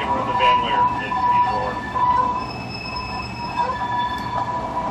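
A model railroad train runs on track at a club layout, with a steady rolling rumble, squealing wheel tones and a whining hum that rise and fall. Voices talk faintly in the background.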